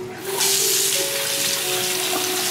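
A hotel bathroom tap turned on and running hot water, a steady hissing stream that starts abruptly and carries on loud and close, with a faint tonal whine underneath.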